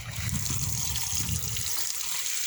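Water poured and splashing steadily over a Honda Wave Z motorcycle during an outdoor wash, a loud continuous gush and trickle close by with no talking.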